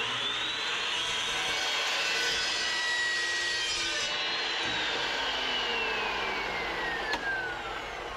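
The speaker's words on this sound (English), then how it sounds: "So if I can cut it right there, and then we can just turn it and weld it how we want it." The metal frame of a Fiero go-kart is cut with a steady, high-pitched grinding whine that runs continuously, with the pitch slowly shifting and no talking.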